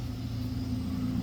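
Passing car traffic makes a low, steady rumble with a faint hum, continuous and moderately quiet throughout the short stretch, with no voices.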